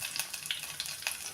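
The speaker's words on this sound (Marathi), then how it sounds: "आता कढीपत्त्याची पाने घालायची आणि हिरवी मिरची घालायची कट केलेली." Curry leaves and cut green chillies hit hot oil for a potato dish, giving a brief, quiet burst of crackling sizzle with several sharp pops.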